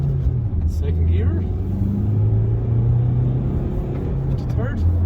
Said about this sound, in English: We'll accelerate from first up a hill, mind you.